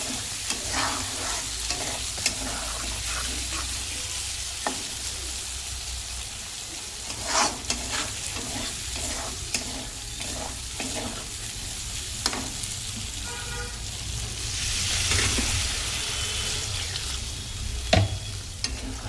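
Water poured into spices already fried in a pan for a fish curry, giving a steady sizzle with stirring scrapes and a louder hissing burst late on, no voices.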